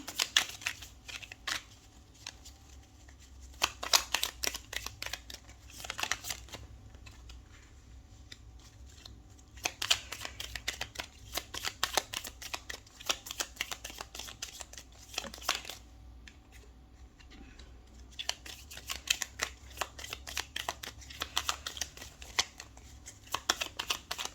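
Tarot cards being shuffled in repeated bursts of crisp riffling and flicking, with quieter pauses between, close and fairly soft throughout with no talking.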